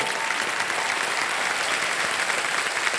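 Studio audience on the quiz show Kaun Banega Crorepati breaks into loud, continuous applause, a dense even wash of clapping lasting about three seconds with no voices over it.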